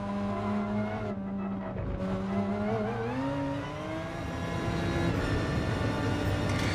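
A race car in GT Sport loses its back end through a turn, its engine droning and shifting pitch over a sustained squeal of sliding tires.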